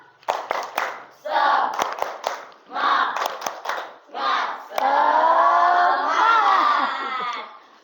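A classroom of students in a teaching practice session doing a rhythmic 'tepuk semangat' clapping chant, with sharp, close claps punctuating bursts of shouted group chanting, ending in a long sustained collective cheer.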